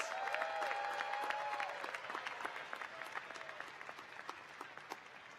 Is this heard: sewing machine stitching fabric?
no